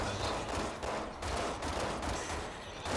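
Bursts of gunfire from the video game Resident Evil 6 rattle in dense, rapid volleys throughout, harsh and fairly steady without clear pauses, with no talk over them.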